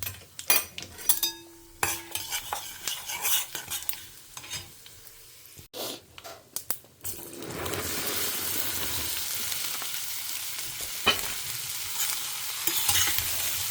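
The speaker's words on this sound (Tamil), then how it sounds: "ஒரு பெரட்டிட்டு கொஞ்சம் நேரம் வதங்கட்டும்." Okra fries with spices in a home kitchen pan, a spoon scraping and clinking against the metal as it's stirred, then a steady close sizzle builds and holds.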